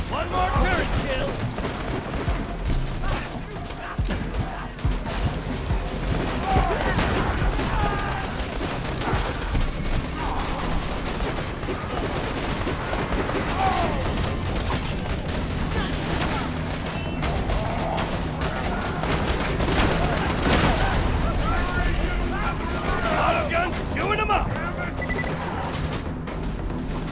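Rapid, dense gunfire and explosions from a four-player co-op Borderlands 2 session, including turret fire, continuous and loud throughout, with players talking over it.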